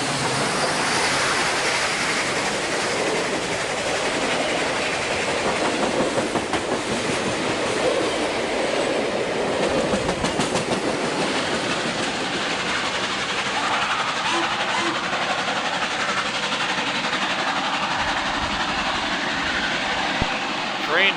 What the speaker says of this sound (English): ATSF 2197 heading back to Elk Valley